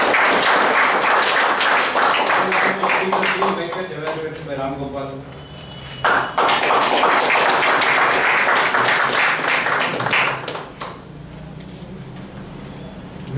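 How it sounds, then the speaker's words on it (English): Loud audience applause at a Toastmasters meeting, dense clapping filling most of the stretch, briefly dipping while a voice speaks over it, then swelling again before tapering off. "Give him a round of applause."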